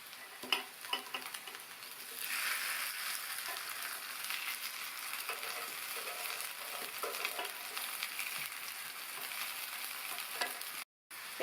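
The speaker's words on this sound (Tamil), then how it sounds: "வாழைக்காயை சேர்த்ததுக்கு அப்புறமா தீயை நிதானமாக எரிய விடுங்க. ஒரு சைடு வெந்ததுக்கு அப்புறமா பிரட்டி போட்டுக்கலாம்." Raw plantain (vazhakkai) pieces fry in a pan over a gentle flame, giving a steady, close sizzle with soft crackles and pops that runs almost the whole time and cuts off briefly near the end.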